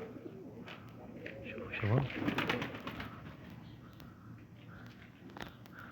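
Soft pigeon coos at close range, with someone speaking briefly over them and light rustling in the background.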